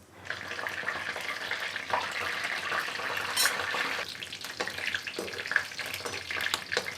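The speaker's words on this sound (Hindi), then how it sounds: "तो अभी यहाँ पे तेल और जीरा डाला गया है और साथ में थोड़ी सी मिर्च भी।" A tempering of cumin seeds and red chili frying in oil for a Pahadi kandali saag dish gives a loud, dense, steady crackling sizzle, with occasional stirring scrapes and no voices.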